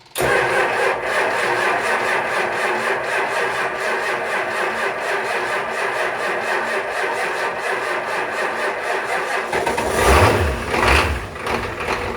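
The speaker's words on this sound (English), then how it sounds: "We'll cycle the key back, get the glow plugs running again, and try her again." A diesel Ram Mega Cab truck engine cranks steadily, with glow plugs cycled beforehand, then catches and fires into a rough, loud idle close by, with no talk over it.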